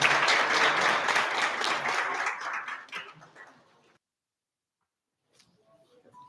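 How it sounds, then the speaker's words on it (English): An audience at a University of Johannesburg leadership session applauds to welcome a dean, the clapping fading out over a few seconds into silence, then faint small noises. "Let's kindly give him a round of applause as we welcome him."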